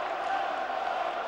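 Arena crowd at a heavyweight boxing team semi-final, Baku Fires against Paris United, giving a boxer a loud, continuous roar of cheering and clapping with voices mixed in.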